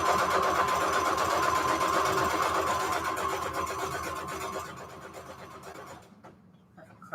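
A sewing machine stitches along flash cards in a continuous, even mechanical hum that gradually eases and fades before stopping near the end, with no talking.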